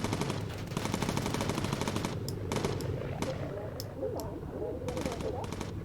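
Rapid machine-gun fire from Italian biplanes strafing a B-17 bomber in Bomber Crew, dense bursts stopping and starting among scattered single shots, with someone talking over the action throughout.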